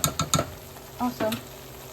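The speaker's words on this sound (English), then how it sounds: "throw the shrimp in there and throw the sausage in there" Shrimp and sausage hit a hot pan of food mixture, giving a few quick clattery stirring scrapes followed by a soft, steady sizzle and faint frying hiss.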